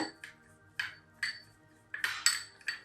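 A spoon mixing lemon juice in a bowl, giving several separate, close metallic clinks and taps against the bowl with quiet gaps between them, with no talking.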